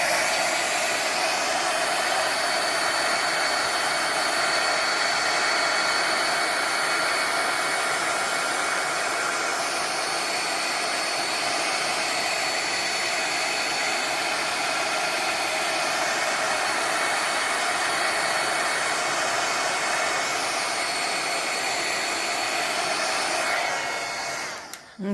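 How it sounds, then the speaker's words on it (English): A heat gun blasts steadily over freshly poured resin in a craft project, a loud continuous roaring hiss that holds for the whole stretch before cutting off at the end. "I will heat gun it again."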